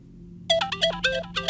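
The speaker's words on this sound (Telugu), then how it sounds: "ఫోన్ తీయవయ్యా." A phone rings in a movie scene: a rapid burst of bright, chirping electronic tones starts partway in and repeats in quick pulses over a low background hum.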